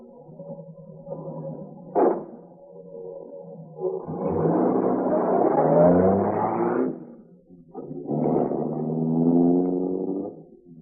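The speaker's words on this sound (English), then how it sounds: "Get back to the car fast and drive off" A car engine roars and revs as the vehicle speeds off, in two long surging bursts after a brief sharp knock, with the engine note rising and falling, set within a radio drama scene.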